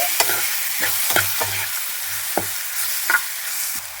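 Grated raw mango for pulihora being stirred in a hot pan, with a steady sizzle and repeated quick scraping knocks of the spoon against the pan, close and clear.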